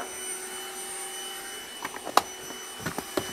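Trifo Lucy robot vacuum cleaner running at maximum suction, a steady whirring drone with a few sharp clicks and rattles of screws being picked up over its last half.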